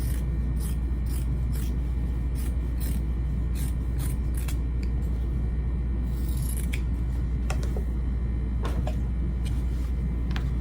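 Scissors snip repeatedly through fabric to trim a seam allowance, a series of crisp close cuts in an irregular rhythm over a constant low rumble, with no talking.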